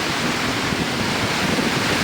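A tropical storm on Boracay island roars as a dense, steady rush of strong wind and heavy rain. It buffets the microphone continuously at high level, with no voices heard.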